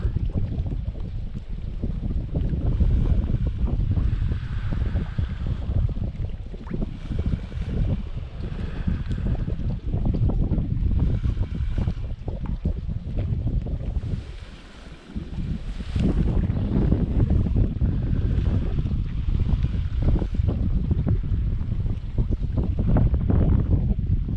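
Strong gusts of wind buffet the microphone in a constant low roar on a fishing outing, briefly easing midway before picking up again.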